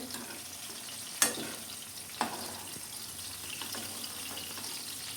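Tomatoes for chutney cooking in a pan, a steady soft sizzle running throughout with two sharp clinks of a utensil against the pan near the start, close and fairly quiet, with no voices.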